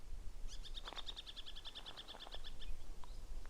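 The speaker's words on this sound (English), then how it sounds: "You can hear one of the birds in the trees there." A faint bird calls from trees at a distance near Uluru in central Australia, with a rapid series of high chirps, then a few scattered notes over quiet outdoor background noise.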